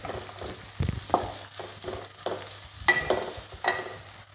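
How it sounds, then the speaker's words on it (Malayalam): Onions being fried and stirred in a pan for Kerala-style beef curry, a steady sizzle broken by repeated scraping stirs of a spoon against the pan, close and fairly quiet, with no talking. "ഇത് നമുക്കൊന്ന് നന്നായി ഫ്രൈ ചെയ്തെടുക്കാം."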